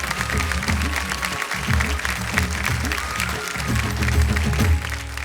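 Audience applause for performers on the stage of a kirtan competition show, a steady, loud wash of many clapping hands that lasts throughout, with a voice and music faintly underneath.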